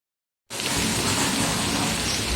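Onion and tomato with bitter gourd start frying in a pan, bursting into a loud, steady sizzle after a brief silence and holding it evenly, close and with no voices.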